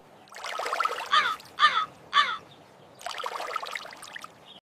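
A cartoon crow caws three times in quick succession, loud and close, framed by rustling, noisy stretches before and after in an otherwise quiet scene.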